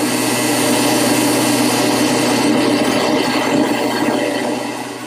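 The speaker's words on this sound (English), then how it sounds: "I want to drill holes on these interior cuts so I can feed the blade through" A power drill bores holes through wood to start interior cuts for a corner chair in a woodworking shop, giving a loud continuous whine that holds steady before easing off at the end.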